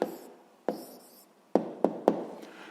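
A pen taps and scratches on paper as someone writes a math answer, a few sharp taps separated by soft scratching strokes, close and quiet with no talk.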